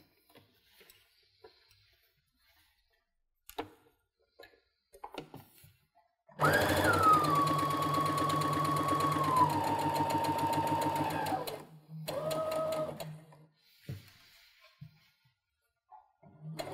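After some quiet handling clicks, a sewing machine stitching around a V-neck runs in one loud, steady burst for about five seconds, pauses, then gives a short second burst before light clicks return.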